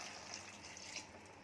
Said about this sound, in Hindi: अब इसमें 1 कप पानी डाल देंगे